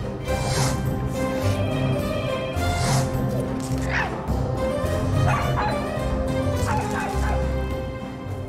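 Several dogs bark and yip in a film sound effect, sharp repeated barks and whimpers layered over a steady low background, fairly close and continuous.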